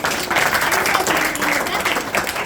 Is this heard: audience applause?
yes